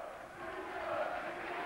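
Football crowd at the FA Sunday Cup Final chanting a player's name, a faint, distant swell of massed voices rising over under two seconds.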